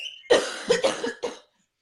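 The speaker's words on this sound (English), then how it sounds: "I have a cough right now." A short burst of several harsh coughs, close and loud, then silence.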